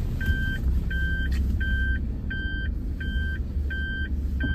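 Car reversing beeper sounding in a steady series of evenly spaced electronic beeps while the car backs into a parking space, over a constant low engine and traffic rumble.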